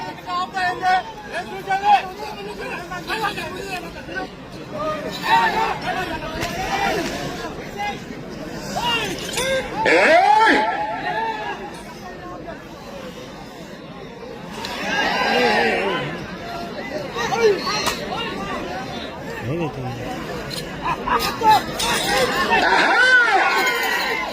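A crowd at a senior-category bull pulling contest in Viswanadhapuram shouts and chatters in waves, with voices rising into loud bursts of cheering over a constant babble.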